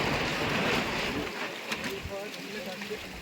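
Strong wind blows over a mountain trek from Karimala toward Sabarimala as loud, rushing buffeting at first, then easing to a softer gusty hiss with faint voices underneath.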